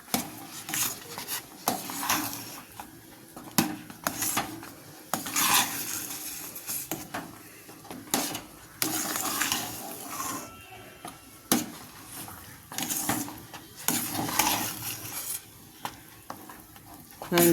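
Kalyana kesari is stirred in a pan, a spoon scraping and clinking against the metal in an uneven rhythm with soft sizzling and thick, sticky rubbing sounds, close and moderately loud.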